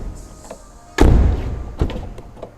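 A car door on a Nio ET5 Touring electric estate wagon swings shut with one solid, close thud, followed by a brief rattling tail and a lighter knock a moment later.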